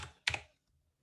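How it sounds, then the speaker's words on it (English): Mechanical keyboard keys clack once or twice in a short, quiet burst, a single close cluster of clicks followed by near silence. "I'm sure you can all hear my gorgeous mechanical keyboard."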